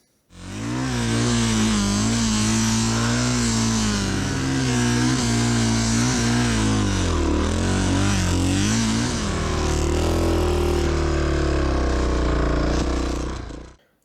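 Honda XR650R motorcycle stuck in swamp mud, its single-cylinder engine revving hard and continuously for over ten seconds, loud and close, with pitch rising and falling as the throttle is worked, then cutting off abruptly.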